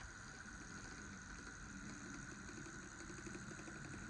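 Lima model diesel railcar motor running on a model railway layout, a steady faint growling drone with a buzzy whine that holds even throughout, with no talking.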